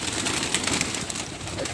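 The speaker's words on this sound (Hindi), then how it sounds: "इनमें बड़े बड़े अच्छे कबूतर है।" Pigeons coo on a rooftop, a soft continuous murmur of overlapping calls at close range, steady throughout with no talking.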